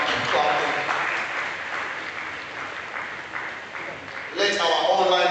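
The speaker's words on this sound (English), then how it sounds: "Keep clapping, keep clapping, keep clapping." Clapping from a hybrid conference audience at an annual general meeting in Edo, a continuous moderate applause with a voice speaking over it throughout.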